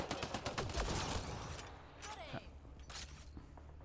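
Rapid gunfire crackles in the video game Mass Effect: Andromeda, a dense volley that slowly thins into scattered shots and mechanical clicks. Speech and game noise run underneath.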